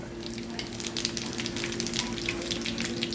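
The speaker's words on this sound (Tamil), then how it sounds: "எண்ணெய் காஞ்சிட்டு ஜீரகம் சேர்த்துருக்காங்க" Cumin seeds fry in hot oil, giving a steady, fairly quiet sizzle with crackling pops throughout and no voices.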